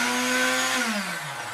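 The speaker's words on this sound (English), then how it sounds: "make sure you have the lid on your blender" A blender whirs with its lid on while blending a raw salmon mixture, a loud steady motor whine whose pitch sags slightly as the load grows, close up and with no talking.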